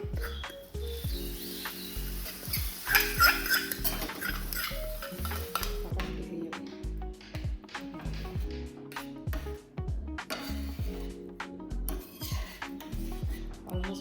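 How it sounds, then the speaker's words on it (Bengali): A spoon stirs Kashmiri chilli powder into sambar in a pot, making irregular close scrapes, taps and clinks against the metal, busier in the second half, with no talking. "কাশ্মীরি লঙ্কার গুঁড়ো দিচ্ছি। দিয়ে একটু নেড়ে এর মধ্যে দিয়ে দিচ্ছি"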